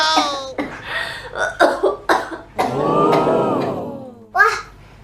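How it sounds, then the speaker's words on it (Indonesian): A woman playing a doctor in a children's pretend-play skit coughs repeatedly in short, loud bursts, mixed with throat clearing and brief vocal sounds, then one final cough after a pause. "ibu dokter juga batuk-batuk juga"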